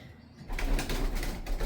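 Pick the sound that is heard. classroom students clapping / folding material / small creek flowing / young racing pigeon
young racing pigeon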